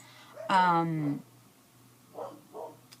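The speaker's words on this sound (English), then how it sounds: "These dogs are distracting me." A dog gives one drawn-out howling bark, followed by a couple of softer whimpers, fairly close in a quiet room.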